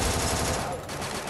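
Rapid automatic gunfire from the battle-royale video game Free Fire, a dense continuous burst of shots at full loudness that eases slightly partway through.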